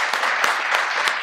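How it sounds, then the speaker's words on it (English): Brief burst of clapping from a small group, a few sharp individual claps standing out over the steady patter. "Everyone give their round of applause to Miriam."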